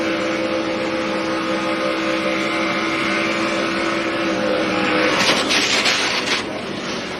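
A NASCAR Truck Series race truck holds a steady, loud full-throttle engine drone for about five seconds, then a sudden harsh burst of crash noise cuts in before the sound drops away.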